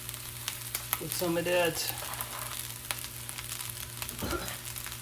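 Shrimp fried rice, Guyanese style, sizzles steadily in a pan with a brief louder burst of frying as more goes in, someone speaking a few words over it.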